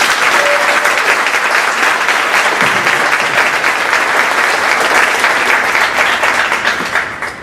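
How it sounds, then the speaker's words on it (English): A crowd at a high school JROTC awards ceremony gives the senior class a round of applause, loud, steady clapping from many people that tapers slightly at the end. "Let's please give the seniors a round of applause."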